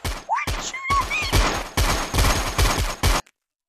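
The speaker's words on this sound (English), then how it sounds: "Why did you shoot at me?" Video game gunfire in a horror game crackles in rapid, loud bursts of repeated shots, with brief gaps between volleys and some whooshing game effects early on.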